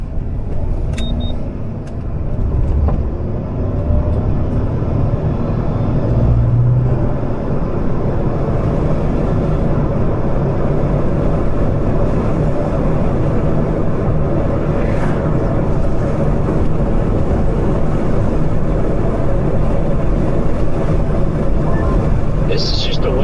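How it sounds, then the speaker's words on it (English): Road traffic rumbles past a storm chase car stopped on a Missouri roadside, a continuous loud low engine and tire drone with vehicles passing close, while people talk in the car. "Why is there always lots of traffic every time you freaking stop?"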